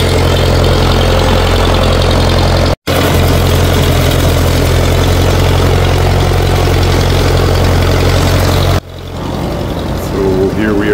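A large diesel tractor engine idles loudly with a deep, steady rumble, briefly cutting out once, then quieter engine noise toward the end.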